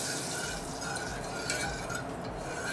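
Oil and spices sizzle in a pan while tempering for dal, a steady close hiss of frying with faint stirring and no pauses.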